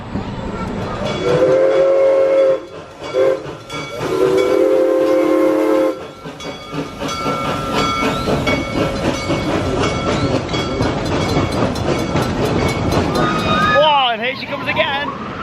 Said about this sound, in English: Ride footage there from the front row of a freshly repainted Cheetah Hunt